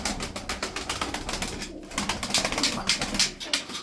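Tumbler pigeons, twelve Resasi birds, coo and shuffle in a loft at close range, with soft repeated calls and some wing and body movement and no talk.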